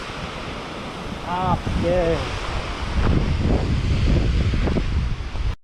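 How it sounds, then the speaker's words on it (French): Mountain waterfalls rush in a steady, broad roar heard outdoors near the falls, with wind buffeting the microphone and a brief spoken exclamation partway through. "ça c'est les cascades de l'Abinal"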